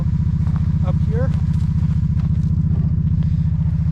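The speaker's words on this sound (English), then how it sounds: "I'm using a four-wheeler." A four-wheeler ATV engine runs steadily while winching logs on a homestead, a loud, close, even idling rumble with a fast pulse throughout.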